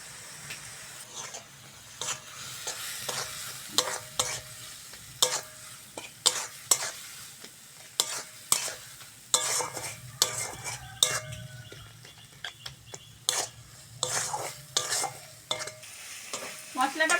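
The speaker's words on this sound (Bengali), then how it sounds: "ভালো করে কষে নিয়েছি" Pointed gourd (potol) is stirred and fried in a pan with turmeric, chili powder, ginger, green chili paste, garlic paste and salt. A spoon scrapes and clinks repeatedly over a continuous soft sizzle, close and fairly loud.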